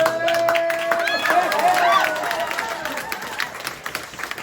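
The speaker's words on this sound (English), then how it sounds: "There was lots of cheering over here" Crowd cheering and applauding at the Europa Clipper rocket launch, a busy wash of clapping and voices with scattered whoops, loudest early and gradually settling, with speech mixed in.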